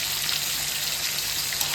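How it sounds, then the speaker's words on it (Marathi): Tomatoes and green chillies sautéing in a hot pan, a close, continuous crackling sizzle with light popping, steady and unbroken, with no voices over it. "हे टमाटे जे आहेत, मिरच्या ज्या आहेत, आपल्याला व्यवस्थित इथे परतून घ्यायचे आहेत"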